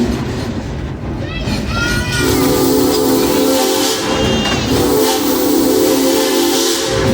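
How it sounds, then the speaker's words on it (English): A steam train whistle at Branson sounds several loud toots, some short and then longer sustained blasts, over steady hissing steam and rumbling rail noise, with voices faintly present. "I love the sound of that whistle"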